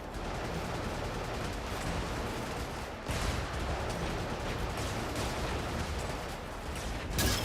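A mech's cannon and chain gun fire in Brigador, a dense, continuous barrage of rapid shots with a sharp break partway through, loud and close with no talking.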